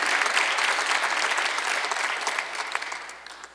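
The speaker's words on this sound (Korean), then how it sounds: "그걸 원하는 사람은 박수 하세요." A church congregation at a Sunday worship service breaks into sustained applause, many hands clapping together in a steady, crowded wash that gradually thins and fades toward the end.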